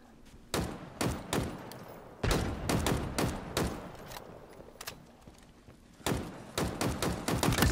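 Bursts of commando rifle fire in Halo Infinite's Halloween Infection mode, a series of sharp, loud shots in quick groups separated by short pauses, growing denser toward the end.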